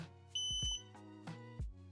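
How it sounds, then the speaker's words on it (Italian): An alarm-system keypad beeps as an RFID tag is held near it, giving a short high electronic tone, with brief clicks and knocks from handling around it. "Avviciniamo successivamente l'altro tag e sentiamo sempre il beep."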